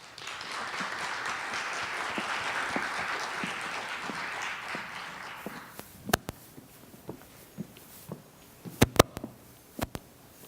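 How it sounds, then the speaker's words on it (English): An audience applauds a speaker introduced for a talk, steady clapping for about six seconds before fading into scattered footsteps and a few sharp knocks in a quiet room. "Let's have a big round of applause for Kayleigh."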